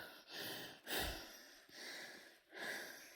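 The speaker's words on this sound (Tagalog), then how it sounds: "Hingal-hingal ako." Heavy, breathy panting from a hiker climbing Tulis Mountain in the Lake District, UK, four long rasping breaths close to the microphone, quiet and unhurried, with no talk.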